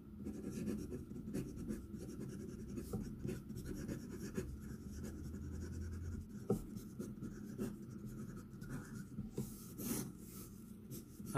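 A Franklin-Christoph fountain pen with a music nib writes on paper, producing soft close scratchy strokes, horizontal and vertical, with faint rasping taps between them.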